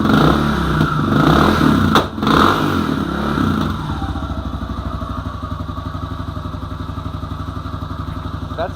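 1990 Suzuki DR650 single-cylinder engine running on choke, heard close. It gives a loud, rough revving burst with a brief dip, then settles into a steady, rapid thumping idle.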